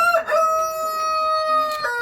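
A rooster crows in a backyard chicken flock kept for breeding, one clear drawn-out call with strong harmonics lasting about two seconds, close and loud with no talk over it.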